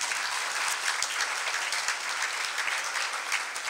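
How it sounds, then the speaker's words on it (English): Audience at an awards night clapping steadily, a dense, sustained round of applause with no voices over it. "a quick round of applause for them"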